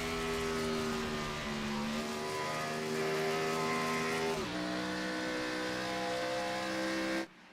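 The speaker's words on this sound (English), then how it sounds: "Even in turn 2, he's downshifting." Race car engine of an All-American Cup Series racer at Pennsylvania, droning loudly and steadily in a turn, pitch dipping briefly as it downshifts before climbing again, then cutting off abruptly at the end.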